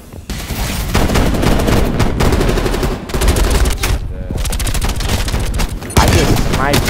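Gunfire in the Call of Duty Cold War beta: dense, continuous automatic fire and rapid volleys, loud and close, with only brief gaps between bursts.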